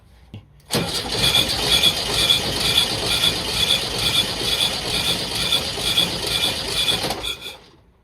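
The starter cranks a 1967 VW Type 3 Squareback engine during a compression test, a steady, even chugging churn that runs for about six seconds at close range and then cuts off.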